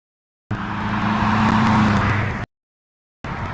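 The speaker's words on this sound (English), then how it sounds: "I apologize for those loud cars" Loud cars passing by outdoors: a broad roaring engine and tire rush swells for about two seconds, cuts off abruptly, then another burst of traffic noise starts near the end.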